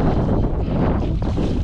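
Strong wind buffets the microphone and rushes over open water around a fishing kayak among feeding tarpon, a steady loud roar with no voices.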